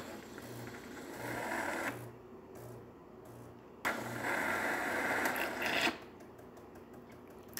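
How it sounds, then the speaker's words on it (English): A Gaggia Anima espresso machine runs its automatic rinsing cycle: faint, close mechanical pump buzzing in two distinct bursts of about two seconds each, with quieter gaps between. "turn off the machine, and that will force the machine to do an automatic rinsing cycle"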